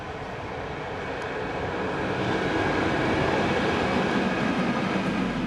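A train rumbles past in a steady, continuous roar that swells slightly louder midway, with no voices.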